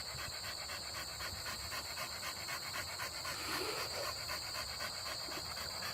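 A dog pants steadily in quick, rhythmic breaths, fairly close and quiet. A constant high hiss runs underneath it, with no one talking.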